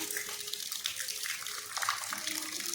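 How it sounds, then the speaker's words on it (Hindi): Heavy rain falls in a steady, dense hiss that holds close and even throughout, with a faint voice briefly underneath. "अति पानी गिरत हेवय एक बार तुमला देखावत हवन"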